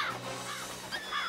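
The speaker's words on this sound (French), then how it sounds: "Va-t'en, sale corbeau!" A crow caws in a French Horseland cartoon, sounding a few rough, harsh calls at moderate distance over quiet background ambience, with no talk.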